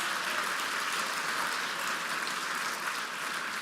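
An audience at a charity brunch applauds its $2,500 donors, a dense, steady wash of clapping that holds at full strength throughout without voices.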